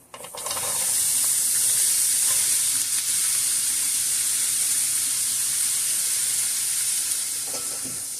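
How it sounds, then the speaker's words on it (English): Onions and carrots sizzle steadily in an oiled pan, a loud, continuous frying hiss that swells up at the start and holds evenly throughout, with faint stirring clatter now and then. "we're going to start out with our onions and our carrots and throw them in"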